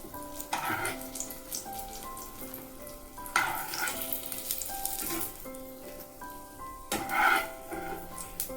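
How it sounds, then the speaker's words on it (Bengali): Eggplant slices frying in hot oil, a continuous crackling sizzle with bursts of louder spattering as pieces are moved, plus occasional light clinks of a utensil against the pan. "বেগুনগুলো আমার ভাজা হয়ে গেছে।"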